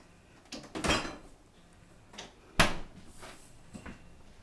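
A new refrigerator's door handling makes a few soft thuds and clicks, with a sharper knock partway through, heard up close with no talking.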